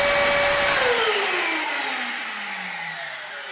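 A vacuum cleaner motor whines loudly as it sucks air, then spins down with a falling pitch as it is switched off, fading steadily over a few seconds with no one talking.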